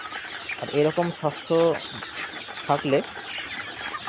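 Sonali chickens cluck in a short series of close, nasal calls in two clusters, with a voice briefly speaking among them.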